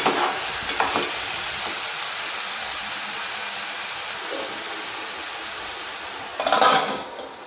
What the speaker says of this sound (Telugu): మొత్తం ఒకసారి కలిపేసి ఒక రెండు నిమిషాలు మూత పెట్టేద్దాం